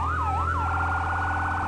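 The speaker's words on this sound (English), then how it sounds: "It sounds like a Federal Signal smart siren." A fire truck siren in the Fire Fighting Simulator game, resembling a Federal Signal unit, wails up and down twice then shifts into a rapid yelp, steady and clear over a low engine drone.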